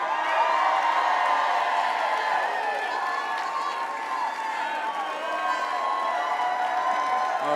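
A crowd at a Miami event cheering and clapping for a U.S. congressman as he takes the stage, a dense, sustained roar of applause, shouts and whoops that holds steady throughout.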